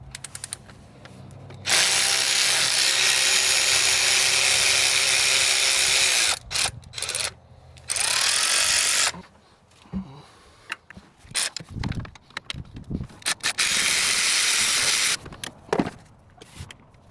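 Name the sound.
taking bolts off a car engine's coil rail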